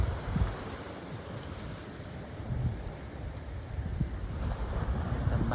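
Steady sea wind gusts across the microphone by the shore, with a broad low rumble of water and surf beneath, continuous and fairly faint with no voices.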